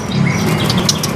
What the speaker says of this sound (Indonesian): Murai betina super super nih